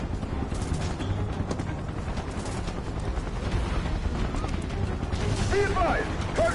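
Soldiers firing guns in Final Fantasy 7 Remake, rapid bursts of gunfire mixed with clanking mechanisms and game noise, steady and fairly loud, with voices shouting over it.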